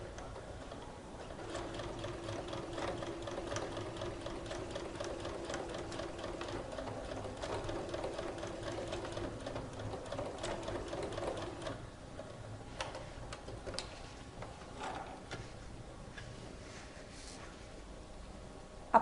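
A sewing machine runs steadily, stitching a denim jeans pocket a centimetre from the edge, with a continuous rapid mechanical whir that stops near the end, leaving a few faint clicks and handling sounds.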